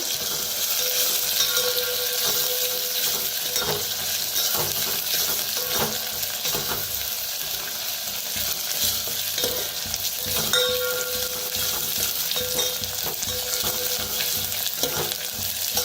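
Curry leaves roast in hot tempering oil, a continuous crackling sizzle with spoon stirring and occasional metallic scrapes against the pan, steady and close throughout with no talking.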